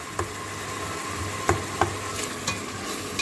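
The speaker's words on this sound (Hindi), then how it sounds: "नमक ऐड करते हैं इसके अंदर और आप इसको मिक्स करते हैं" A spoon scrapes and knocks against a pot while salted Afghan-style potato qorma is stirred and cooked, with a soft sizzling bed underneath and several sharp clicks at uneven intervals.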